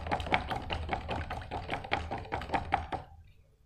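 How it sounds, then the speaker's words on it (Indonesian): A spoon stirs freshly poured tea in a glass while making iced tea, giving quick rhythmic clinks and taps for about three seconds before it stops. "Kemudian ini bisa kita aduk kembali."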